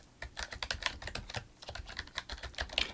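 Rapid keystrokes on a computer keyboard while entering text into a field of bankruptcy petition software, close and steady with brief pauses, no voices.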